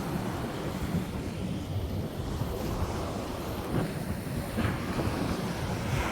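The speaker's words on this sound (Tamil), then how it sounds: "அவ்வளோ நிறைய தண்ணி அடிக்குது வேறு" Steady broadband wash of surf breaking along a shore where fishing boats come in, with wind buffeting the microphone throughout; continuous and fairly loud, no voices.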